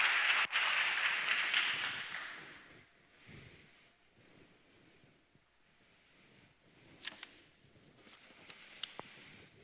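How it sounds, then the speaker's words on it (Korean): Church congregation clapping during a Sunday worship service, a loud burst at the start that fades to scattered claps and quiet room sound. "여러분 박수 크게 한번 해주십시오"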